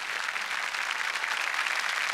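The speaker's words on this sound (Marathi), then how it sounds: "जोरदार टाळ्यांनी आपण स्वागत करूयात राकेशचं" A studio audience at the Marathi comedy show Chala Hawa Yeu Dya applauds to welcome an actor, a dense, even wash of many clapping hands that holds steady throughout.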